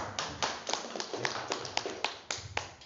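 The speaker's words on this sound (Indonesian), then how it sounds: "Untuk aplaus dulu untuk produknya" A small audience claps for a product at an organic health and financial-freedom presentation, with sparse, uneven hand claps that stay fairly quiet and thin over a few seconds.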